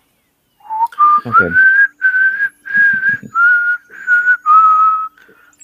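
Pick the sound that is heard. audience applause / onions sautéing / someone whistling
someone whistling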